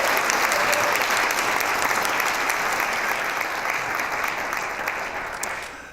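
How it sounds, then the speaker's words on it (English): A loud round of applause from an audience at a Pikes Peak regional history talk fills the room for a presenter named Tim, dense and continuous before tapering off softly at the close. "please join me in giving Tim an incredible round of applause"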